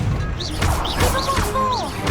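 Crashing spell impacts from the Confringo blasting spell in the Hogwarts Legacy video game, layered with whooshing, pitch-sweeping magical effects over a dense, loud game soundscape.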